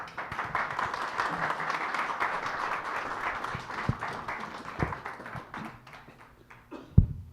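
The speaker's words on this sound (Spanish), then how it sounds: "pido un caluroso aplauso" Audience applause at a medical conference on esophagus and gastroduodenal topics, a broad sustained wash of clapping that thins out toward the end, with a few sharper isolated claps standing out near the finish.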